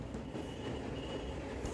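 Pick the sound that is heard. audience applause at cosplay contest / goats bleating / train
train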